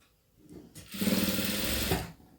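A sewing machine stitches a single short burst lasting about one second, a close, steady motor whir that starts and stops abruptly against a quiet room.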